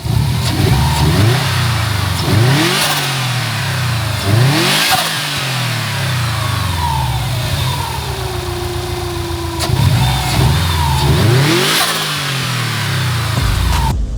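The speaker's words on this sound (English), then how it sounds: "I want to hear the blow off valve." A turbocharged car engine revving repeatedly, rising and falling in pitch, with a sharp whooshing blow-off valve release after the revs drop, loud and close.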